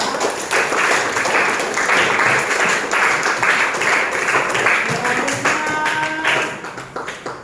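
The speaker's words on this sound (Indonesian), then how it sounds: "Kita kasih tepuk tangan untuk kelompok 3." Classroom applause for a presenting student group, a dense stretch of many hands clapping at once that carries on steadily for several seconds, thins out and fades near the end, with faint voices mixed in.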